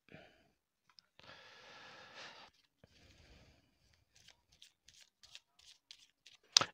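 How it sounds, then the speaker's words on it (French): An oracle card deck is shuffled in a quiet room, a soft riffling burst followed by faint card slides and a run of light clicks and taps, ending on a sharper snap. "Nous allons prendre une carte donc de l'oracle messager"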